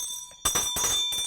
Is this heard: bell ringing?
yes